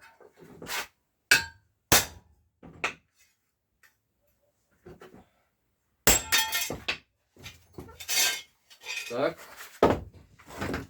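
Hammer blows strike a chisel while a wooden photo frame is being made, sharp metallic knocks in irregular clusters with pauses between, close and loud.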